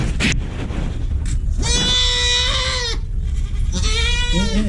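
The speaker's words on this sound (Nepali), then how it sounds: "हामी चाहिँ बाख्रालाई पनि खसी पार्न लागिरहेछौँ है" A goat bleats loudly twice while being castrated, each cry long and strained, with a low background rumble throughout.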